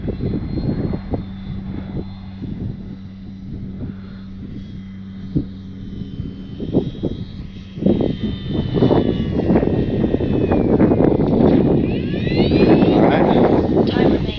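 Small RC bush plane, a 1300 mm Bonanza, flying and coming in for a grass landing outdoors, its propeller engine droning steadily and swelling louder toward the end amid some wind noise.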